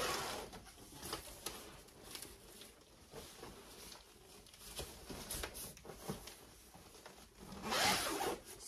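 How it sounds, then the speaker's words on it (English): A two-way zipper on a portable steam sauna is drawn in a long series of short scratchy pulls, close and fairly quiet, ending with a louder, faster zip. "there is a two-way zipper, guys. This is going to zip all the way up"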